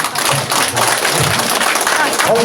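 Steady, dense applause from an audience at a city briefing in Namwon's Noam-dong, loud and close, a continuous wash of clapping lasting the whole moment.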